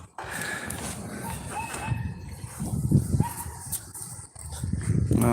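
A small poodle-like dog yaps in short, sharp barks, some close and some farther off, with brief gaps between bursts and light background noise.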